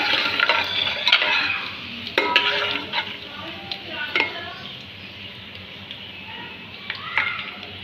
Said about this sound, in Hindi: सबसे पहले हम गरम ऑयल हो गया है, उसके अंदर ये बघार डाल देंगे।